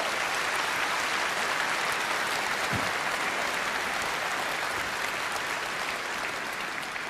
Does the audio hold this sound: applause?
yes